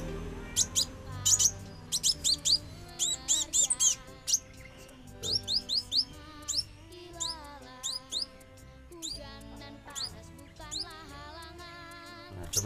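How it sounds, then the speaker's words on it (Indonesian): A kolibri kaca songbird chirps up close in quick bursts of high, thin tweets and trills, repeated in short irregular clusters across the whole stretch. "Sebenarnya burungnya gacor ya teman-teman,"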